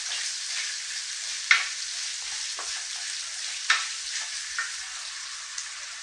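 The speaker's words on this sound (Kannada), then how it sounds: "ಹಾಗೆ ಒಂದು 4 ಹಸಿಮೆಣಸನ್ನು ಹಾಕ್ತಾ ಇದ್ದೀನಿ. ಈ ಥರ ಫ್ರೈ ಮಾಡ್ಕೊಳ್ಬೇಕು." Four green chilies fry in a pan of hot oil with a steady bright sizzle throughout, broken by a few sharp crackling pops and stirring scrapes.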